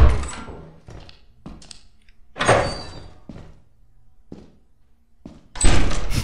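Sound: door closing in Lethal Company video game

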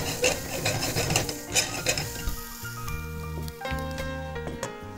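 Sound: sautéing capsicum (bell pepper) in a pan

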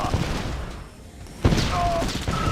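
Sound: gunfire bursts in Red Alert 2 video game

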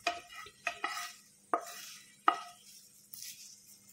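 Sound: stirring and mixing fried ingredients into poha chivda

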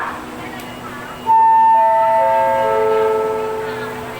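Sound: special express train pulling into platform 2 at Ratchaburi station

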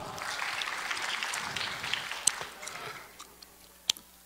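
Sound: warm applause from audience

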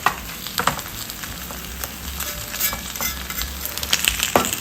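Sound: food sizzling in covered pan

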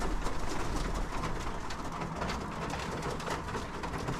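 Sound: pigeons cooing

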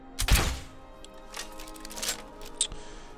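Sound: crossbow bolt shot in video game

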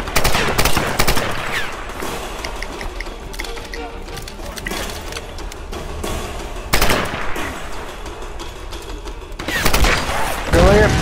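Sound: gunfire from video game Tomb Raider

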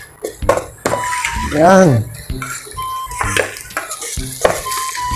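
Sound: stirring lechon manok mixture in a pot

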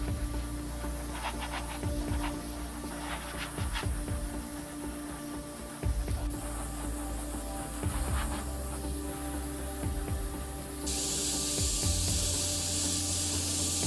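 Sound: airbrush spraying transparent black paint on a helmet

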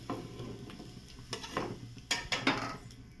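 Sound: pesarattu dosa placed on a plate, dishes clattering

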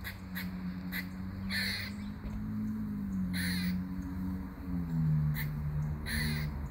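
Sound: crow cawing

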